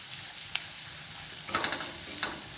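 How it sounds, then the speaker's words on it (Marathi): Two spoonfuls of sesame seeds roast in a pan at moderate volume, with a few soft crackles and brief stirring scrapes spread across a quiet, steady background hiss. "इथं आपण तीळ भाजून घेतलेले आहेत, 2 चमचे तीळ आहेत, ते तीळ टाकले, भाजून घेतले तीळ आपण।"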